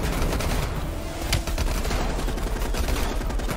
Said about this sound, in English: it's kind of hard to move when you got people shooting at you from multiple directions here